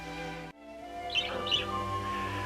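A small swallow gives a few faint, high chirps over a steady background hum, with no talk.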